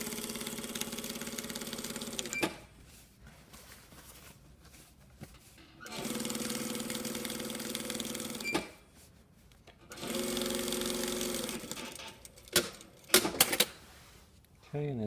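A sewing machine stitches a box stitch on a shirt yoke in three separate runs of rapid mechanical whirring, each about two to three seconds long, with quiet pauses between them and a few sharp clicks near the end.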